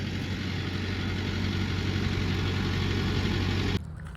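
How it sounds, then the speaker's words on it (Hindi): A large farm tractor idles in a field with a steady, low diesel rumble that holds constant and close, then drops off abruptly near the end. "आज मैंने गांव का सबसे बड़ा ट्रैक्टर अपने खेत में बुला लिया है।"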